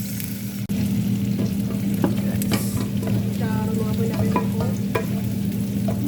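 A spatula stirs ginger around a hot frying pan, a steady sizzle running throughout with scattered scraping clicks and taps, close and fairly loud, no voices.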